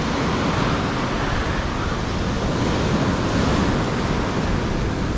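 Surf waves crash steadily on a Virginia Beach shoreline during surf fishing, a loud, continuous roaring wash with no break, close to the microphone and buffeted by wind.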